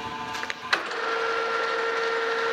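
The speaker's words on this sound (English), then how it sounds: "I'm gonna chamfer those edges." A metal lathe puts a chamfer on the edges of a change gear blank: a few light taps and a short scrape, then a steady high whine with an even cutting hiss, loud and close, with no talk.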